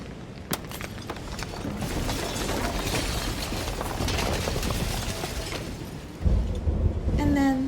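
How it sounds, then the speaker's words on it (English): A rumbling, crackling shattering from the video game Slay the Princess builds steadily into a dense, grinding roar, with a narrating voice coming in at the end. "And then the shattering."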